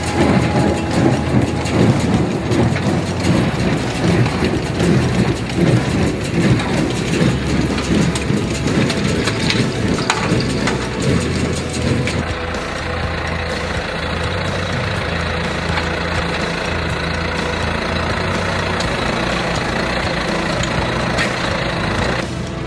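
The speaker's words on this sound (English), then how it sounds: "It is baled into large or small bales of hay." A hay baler baling dry grass into bales works in a field: dense, loud machinery with a rumbling engine and rapid rattling clatter that eases into a steadier drone partway through.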